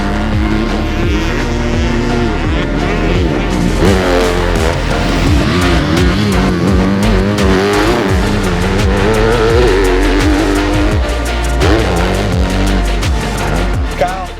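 A custom Yamaha YZ250F dirt bike ridden hard, its engine revving up and down in loud, rising and falling sweeps with throttle blips and gear changes, close and continuous for about fourteen seconds.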